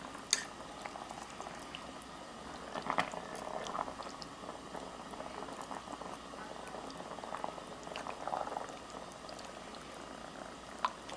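Bulgogi broth bubbles and simmers in a pot with beef, a quiet continuous burble with occasional louder pops and gurgles.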